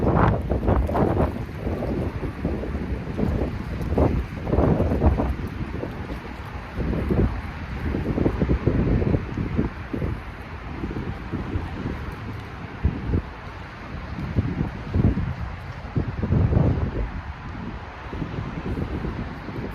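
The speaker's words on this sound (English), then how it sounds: "That wind is vicious, y'all." Strong, gusty outdoor wind buffets the microphone during a calisthenics workout, a steady loud rumble with repeated surges and no talking.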